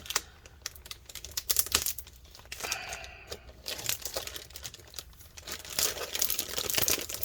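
Adhesive tape peeled off the inside of a 2020 13-inch M1 MacBook Pro A2338 during disassembly, giving close, uneven crinkling and tearing crackles with small clicks, continuous and fairly loud throughout.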